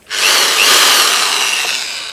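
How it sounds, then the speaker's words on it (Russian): A powerful 1000 W electric drill runs at close range with a loud, steady high-pitched whine that starts abruptly and holds for about two seconds, with no talk. "Дрель очень мощная,"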